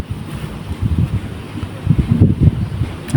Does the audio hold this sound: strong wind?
yes